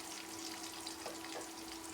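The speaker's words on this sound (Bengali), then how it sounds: "এগুলা দিয়ে একটু আমি তেলের উপরে একটু ভাজা নিব" Bay leaves and green cardamom pods frying in hot oil make a soft, continuous sizzle with faint bubbling, steady and close, with no voices.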